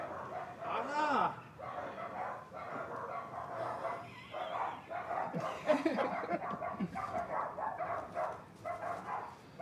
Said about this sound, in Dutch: Wie hoort nou dat ene hondje